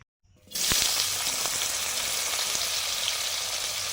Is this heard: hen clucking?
no